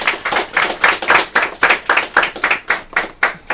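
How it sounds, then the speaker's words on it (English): At a girls' secondary school oratory competition grand finale, hands clap in a loud, even rhythm, roughly three sharp claps per second, close and crisp in a unison beat rather than a scattered wash. "A round of applause for them, please"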